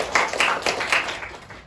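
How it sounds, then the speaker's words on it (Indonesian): A classroom of students claps hands together in a short burst of uneven, moderately loud clapping that fades out after about a second and a half. "boleh tepuk tangan dulu"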